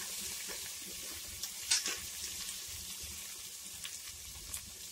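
Green chilies and curry leaves sautéing in a pan, giving a soft, continuous hissing sizzle with a few faint clicks, heard alone and quietly.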